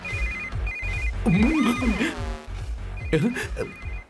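A phone ringtone chimes in repeated short electronic bursts, with people talking over and between the rings.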